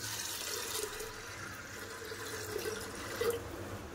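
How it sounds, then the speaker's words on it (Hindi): Water runs steadily from a tap into a container of chana dal lentils, a soft continuous splashing with a few small bubbling gurgles, fairly close and no voices. "अब पानी डाल देती हूँ दाल में।"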